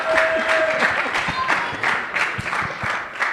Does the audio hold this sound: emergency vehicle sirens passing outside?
no